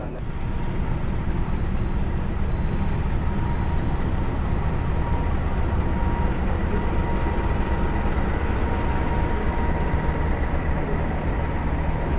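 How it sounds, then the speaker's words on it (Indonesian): A locomotive-hauled train near Tegal station, a steady loud rumbling drone with faint repeated high beeps early on, heard up close without a break. "lokomotif menuju ke stasiun Tegal yang berada di jalur 1 sana teman-teman"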